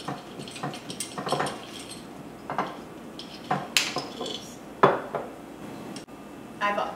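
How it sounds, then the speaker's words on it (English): Raw almonds, about a cup, poured into a bowl for a raw chocolate bar, giving scattered hard clinks and rattles in several short bursts against a quiet kitchen background. "I've gone ahead and we have our almonds in"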